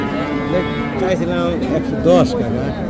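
Bull calves, including Friesian, Sahiwal, crossbred and local breeds, low and moo amid busy chatter at Hazratpur cattle market, the animal calls rising briefly above a dense crowd of voices.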